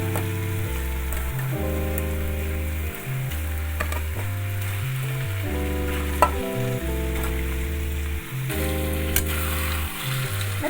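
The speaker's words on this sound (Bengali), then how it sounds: "এবারে আমি ভাজা মুরগিটা দিয়ে দিলাম।" Fried chicken pieces go into a pan of cooked-down spiced masala for a Bengali pumpkin chicken curry, giving a steady sizzle and stirring under loud background music.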